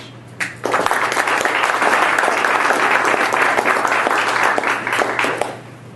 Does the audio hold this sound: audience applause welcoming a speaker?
yes